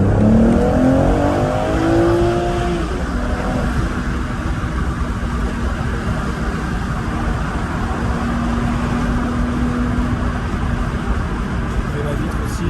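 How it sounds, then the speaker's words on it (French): A BMW M440i engine pulls hard as its turbos spool, a deep rising growl that climbs in pitch then settles into a sustained loud drone inside the cabin, with a person talking over it. "quand les turbos s'ouvrent, en fait, quand les turbos chargent"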